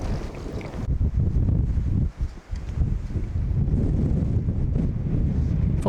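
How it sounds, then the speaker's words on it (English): Strong, steady wind roars and buffets the microphone in a low rumble during snowfall in Swedish Lapland, with a brief lull partway through and no voices. "It's snowing quite a lot and windy"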